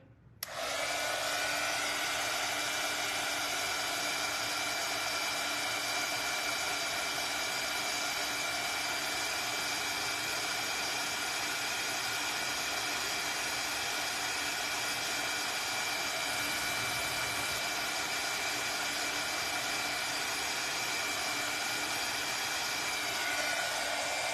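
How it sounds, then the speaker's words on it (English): A hair dryer running on its high setting, a loud steady whine and airy roar that starts abruptly and holds constant for the whole stretch, with no voices. "let me get my dryer and I'm gonna turn it on high"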